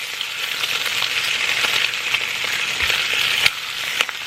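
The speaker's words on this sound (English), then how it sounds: "Let's turn the bacon." Bacon sizzles as it fries in a pan for a full English breakfast, a steady close crackling hiss with scattered small pops, no voices over it.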